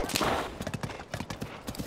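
Horse hooves clip-clop at a stable in the video game Tears of the Kingdom, a quick irregular patter of hoofbeats under other game sounds, with a brief burst of noise at the start.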